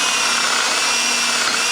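Power drill boring holes in a homemade climbing hold, a steady close whine with a constant tone running unbroken throughout.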